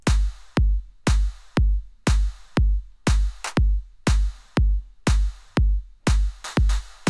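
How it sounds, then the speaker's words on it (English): Drum loop of kick and snare (a clap on the backbeat), punchy regular hits repeating steadily, close and dry, with no one talking. "So I started this drum loop off with the kick and snare"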